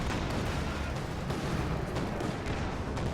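Mortar fire from a captured mortar team in the video game Company of Heroes 2 rumbles through a dense, loud battle din, with booming impacts blended into continuous gunfire.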